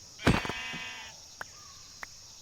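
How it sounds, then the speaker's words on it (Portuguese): Sheep bleating in the Minecraft modpack Cursed Walking, a zombie-apocalypse survival game: one clear, harmonic bleat up front, followed by a couple of faint clicks over a steady background hum. "milagrosamente eu encontrei umas ovelhas"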